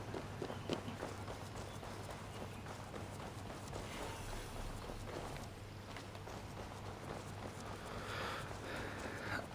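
Horse hooves clip-clop in the video game Assassin's Creed Valhalla, a soft, steady stream of footfalls with a faint background bed, quiet throughout and without voices.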